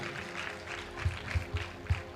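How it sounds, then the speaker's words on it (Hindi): A church congregation claps in scattered, uneven bursts, several sharp claps standing out over a soft background hum at moderate distance. "ताली बजाए परमेश्वर को धन्यवाद दे।"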